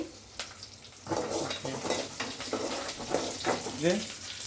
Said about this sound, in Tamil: இது சாம்பாருக்கு வதக்கி நிற்க வெங்காயம்.